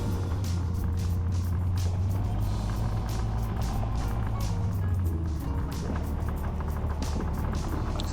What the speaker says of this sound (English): just doing a quick drive up and down the road to make sure it kind of tracks straight